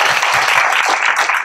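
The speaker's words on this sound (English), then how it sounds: "Again, a round of applause." A moot court competition audience applauds in a dense, loud, continuous burst of many hands clapping, filling the whole short stretch.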